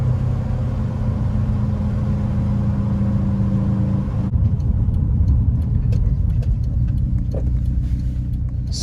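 A Subaru WRX hatch engine idles steadily nearby, a continuous low rumble with a slight shift in tone partway through and faint clicks and rustles on top.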